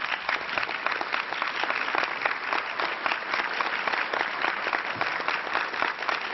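Steady, dense applause from an audience in a United Nations Human Rights Council chamber after a speech by a Venezuelan minister, continuous and even with no voices over it.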